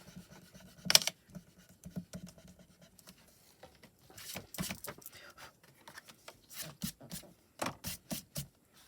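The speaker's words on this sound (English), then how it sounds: "What's nice again about Pan Pastels is I can go in and erase that" A regular eraser rubs pan pastel off a paper card in short, scratchy strokes, quiet at first and then coming in louder bursts of brisk back-and-forth scrubbing.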